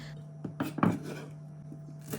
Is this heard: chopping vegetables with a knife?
yes